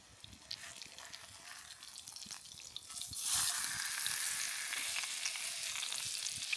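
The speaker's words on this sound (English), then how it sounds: "Let's flip this steak here." A steak sizzles in a frying pan during a camp dinner near Mt Washburn, a steady crackling hiss that swells louder and brighter partway through, as if just flipped, with no talking.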